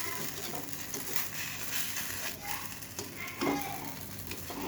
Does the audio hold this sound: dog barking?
no